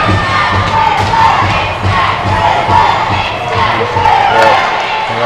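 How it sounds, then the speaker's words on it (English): Loud crowd at an ice hockey rink cheering on the Swindon Top Kittens in a U16 girls' final, a sustained roar of shouts and yells from many spectators, with young voices prominent and no pause. "The crowd really getting behind the Swindon Top Kittens right now."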